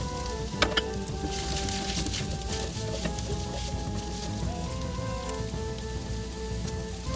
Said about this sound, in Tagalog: Saute it until